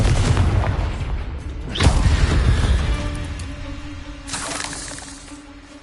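Confringo spell explosions in the Hogwarts Legacy video game: a rumbling start, then a loud crashing blast with shattering debris, followed a few seconds later by a second smaller burst, all close and without talk.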